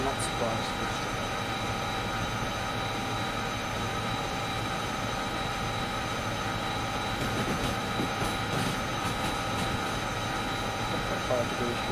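A locomotive in a train video game hauls a load up an incline, heard as a steady loud rumble and rolling clatter with engine whine throughout, a voice talking over it.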